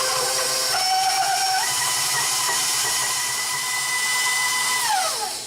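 A stand mixer beats chocolate chip and gingersnap cookie dough with a loud, steady motor whine that shifts pitch as the speed changes, then winds down at the end.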